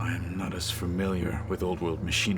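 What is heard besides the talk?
No distinct noise like a dog, phone or traffic.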